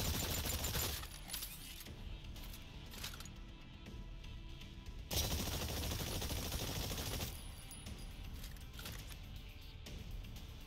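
Rapid gunfire in Exoprimal crackles in dense, continuous bursts, with louder volleys at the start and again near the middle, and no voices over it.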